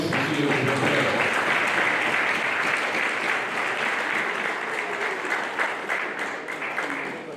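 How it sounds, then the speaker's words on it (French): An audience applauds steadily for the Governor at a formal session, a dense, even wash of clapping that holds at full strength for several seconds and eases only slightly near the end. "D'applaudir en signe de remerciement à son Excellence, Monsieur le Gouverneur."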